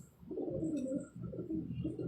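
A pigeon, kept by a fancy pigeon breeder in Karachi, gives a low, throaty cooing that rolls on for about two seconds in two swelling phrases, close and clear with no talking.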